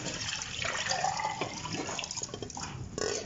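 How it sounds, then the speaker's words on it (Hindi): Water gets poured into a pressure cooker holding beef for pulao, a close, steady splashing gush that keeps running for a few seconds. "तो हम पानी डालते हैं।"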